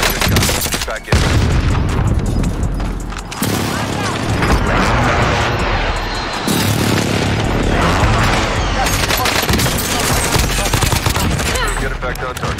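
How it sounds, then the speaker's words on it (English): Heavy airstrike explosions in Call of Duty Warzone, loud rolling booms layered with rapid gunfire bursts that fill the scene almost continuously, with a short lull between blasts. "Airstrike target designated."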